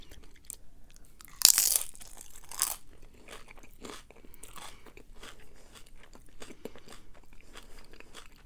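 Close, crisp crunching and biting into Jack in the Box fast food with cheese, lettuce and sauce at a mukbang meal, a loud bite near the start followed by steady smaller chewing crunches.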